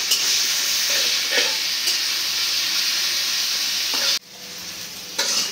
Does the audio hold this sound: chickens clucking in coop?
no